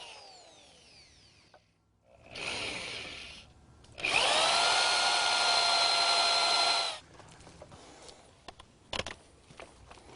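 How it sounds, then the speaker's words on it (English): A power drill spins a 5/8 inch tenon cutter, shaping 3/4 inch long tenons on the ends of wooden spindles for rustic furniture. A short grinding burst comes first, then a longer, louder whining cut about three seconds long, close by. "cut 3/4 inch long tenons on each end using a 5/8 inch"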